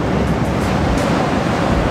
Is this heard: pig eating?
no